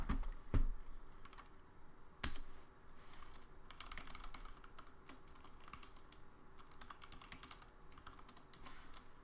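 Someone types on a K68 computer keyboard, making quiet irregular clicks and key taps with a couple of sharper knocks, close by and otherwise alone.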